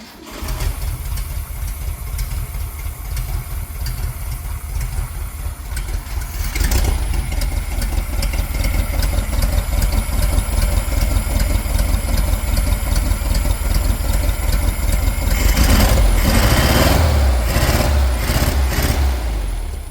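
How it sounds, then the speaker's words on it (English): A restored vehicle's small engine idles steadily and fairly loud, with the running note thickening and growing busier about a third of the way in, then swelling briefly near the end. "Her little engine kicked back into life."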